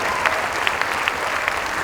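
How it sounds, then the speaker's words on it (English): An audience applauds a saxophone player at a little big band show, steady close clapping with a few sharper claps standing out. "I want you to clap once again"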